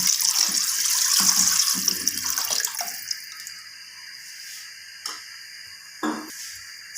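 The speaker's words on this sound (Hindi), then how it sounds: "2 लीटर हम इसमें पानी डालेंगे।" About two liters of water pours steadily into a pot holding chicken, with a rushing splash for about three seconds, then quiets, leaving faint background sounds and a couple of soft knocks.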